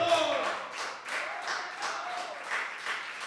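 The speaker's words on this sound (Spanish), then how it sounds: "Den ese aplauso al Señor." A congregation in a church applauds during a Spanish-language Christmas sermon about the shepherds of Bethlehem, producing a steady wash of clapping from many hands, moderately loud and continuous for a few seconds.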